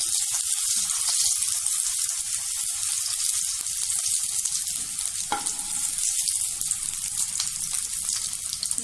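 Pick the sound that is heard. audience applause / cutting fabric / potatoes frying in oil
potatoes frying in oil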